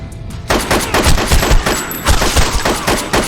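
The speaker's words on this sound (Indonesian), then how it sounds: "Seo langsung menembak Alex hingga tewas" Gunfire in a mafia debt-collector action film scene, a loud, close barrage of rapid shots in overlapping bursts that erupts after a brief quieter moment and keeps going to the end.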